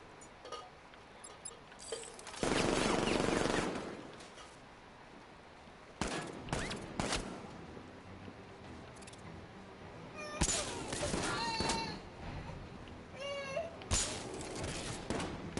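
Gunfire crackles in a Batman video game, with loud bursts of rapid shots breaking out several times over a steady background of game sound.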